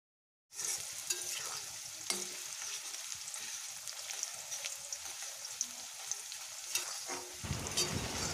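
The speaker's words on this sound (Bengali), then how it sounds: "কড়াইতে তেল গরম হয়ে গেছে, এবার আমি পেঁয়াজগুলোকে মুচমুচে করে ভেজে নেব" Onions fry crisp in hot oil in a wok with a loud, steady sizzle and crackle, broken by occasional stirring scrapes. No one speaks.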